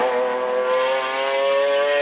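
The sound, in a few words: McLaren F1 engine roaring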